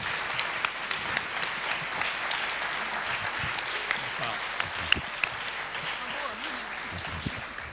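An audience applauds to welcome the speaker at a French public philosophy talk on generosity and health, a dense, steady patter of many hands clapping that fills the room for several seconds without letup.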